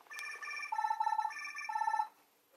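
A Minnie Mouse toy phone rings with a bright electronic warbling trill lasting about two seconds, alternating two tones before cutting off, clear and alone in a quiet room.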